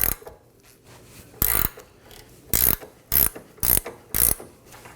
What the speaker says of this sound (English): one side I'll be supporting it with a ratchet and the other side removing it with a wrench. Just going to break it free.